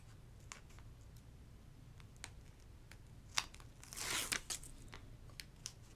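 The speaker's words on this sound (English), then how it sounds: "I'm going to use my finger blade to remove those tape backers." Faint dry ticks and small crinkling scrapes as tape backers are peeled off with a finger blade while covering a chunky notepad, a brief rustling peel near the middle amid scattered light clicks.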